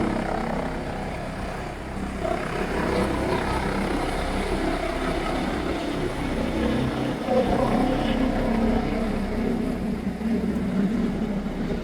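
A helicopter drones steadily nearby, its rotors producing a continuous loud whirring throb with no talking.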